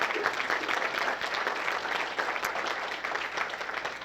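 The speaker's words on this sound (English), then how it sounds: "round of applause for them" An audience at a training summit applauds, dense continuous clapping from a crowd that stays loud and even throughout.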